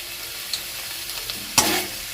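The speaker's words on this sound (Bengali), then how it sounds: "হালকা হাতে একটু নেড়ে চেড়ে নিচ্ছি" Banana flower and potato curry gently stirred in a pan, a soft scrape and brief sizzle near the end, close and quiet over low background hiss.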